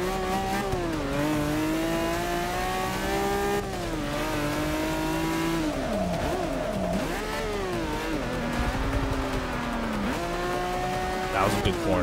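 A race car in Forza Motorsport 6 slides through a corner. A steady engine drone rises and falls in pitch, and tire squeal runs continuously beneath it.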